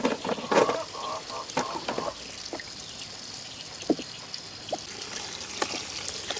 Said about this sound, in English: Now we're going to go ahead and we're going to fill this up with water